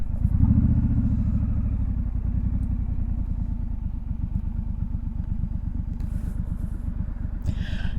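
Steady low rumble of a Triumph 1200 XC motorcycle engine heard from the rider's position while cruising along a road, a continuous throbbing drone with faint wind noise and brief rattles near the end, no talking.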